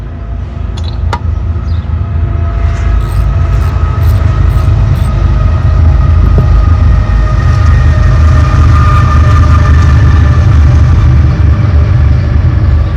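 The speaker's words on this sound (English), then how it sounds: "here comes the train" A train rumbles past outdoors in a loud, continuous low roar that swells and holds, with faint tonal squeal and a few clanks above it and no voices.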